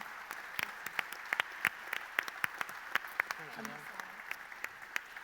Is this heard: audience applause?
yes